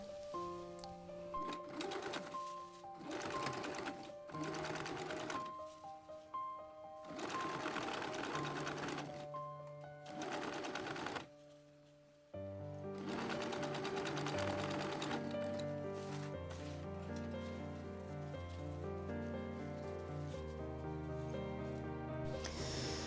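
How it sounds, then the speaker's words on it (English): A home sewing machine topstitches the back crotch seam of a pair of jeans, running close and steady in several separate bursts with short pauses between them, while soft music plays underneath. "So I have sewn and top stitched the back crotch."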